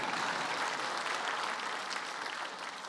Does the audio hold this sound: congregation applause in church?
yes